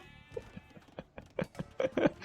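Sheep bleat in a strategy video game, a string of short, wavering bleats, some overlapping, growing louder and closer toward the end.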